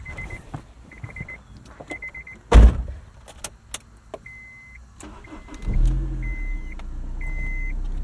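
A 2001 Honda S2000 on Fortune Auto 510 coilovers: repeated chime beeps and a door thud, then the starter cranks and the engine catches into a steady close idle, with more chimes continuing over it.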